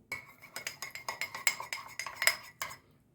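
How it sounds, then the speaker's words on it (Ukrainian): A utensil clinks rhythmically against a bowl in quick repeated strokes as egg and oil batter for dumpling dough is stirred, close and moderately loud. "І все гарненько розмішую."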